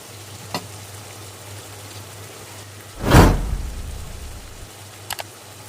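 Chilli con carne with paprika and ground cumin is stirred in a sizzling pan: a steady frying hiss, one loud scraping stir midway, and a couple of brief clinks near the end.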